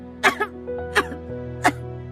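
Three harsh, brief, sickly coughs from a cartoon princess, spaced apart over a steady background tone, close and fairly loud.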